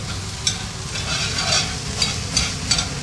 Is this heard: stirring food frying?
yes